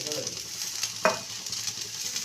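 A spoon stirs garam masala into rice frying in a pan, a steady sizzle running underneath with one sharp scrape of the spoon against the pan midway.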